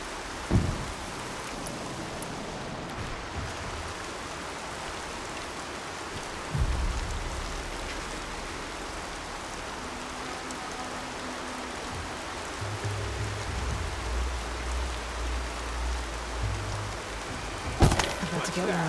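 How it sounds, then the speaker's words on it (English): Steady rain falls in the video game Horizon, a continuous broadband hiss with a few low rumbles and thumps, while a voice speaks briefly. "Rain."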